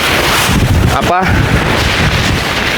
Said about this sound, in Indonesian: ini di Bukit Gajah lagi berangin seperti ini